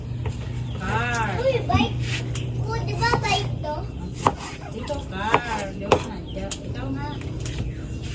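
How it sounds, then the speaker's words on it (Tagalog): Knife slicing tomatoes on a board, a few crisp chopping taps scattered under nearby voices, with children talking and rural background sounds. "Dito naman na po sa kabila ay naghihiwa na po ng kamatis si Tito ninyo."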